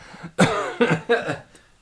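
Several harsh coughs in a quick cluster, close and fairly loud, each burst rasping and breathy with short gaps between.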